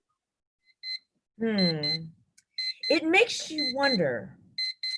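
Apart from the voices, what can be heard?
electronic beeping coming from a dove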